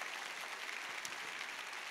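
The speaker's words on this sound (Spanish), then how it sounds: "Dale fuerte ese aplauso al que vive" Church congregation applauding during a sermon, a faint, continuous patter of many hands clapping at an even level throughout.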